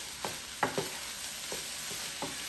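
Chicken fried rice is stirred in a pan of a Power XL cooker, giving a few soft scraping strokes over a steady low sizzle, close and fairly quiet.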